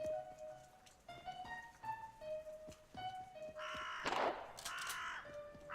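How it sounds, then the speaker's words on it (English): Crows cawing in the video game Monaco, a string of repeated harsh caws close by, rising to a louder, denser burst of calls toward the end. "there was a bird and it started cawing, which made noise"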